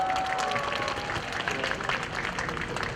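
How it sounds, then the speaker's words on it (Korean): Audience clapping in a church or assembly hall welcoming a young pastor to the stage, steady and moderately loud, with a faint voice briefly audible early on. "박수 부탁드립니다"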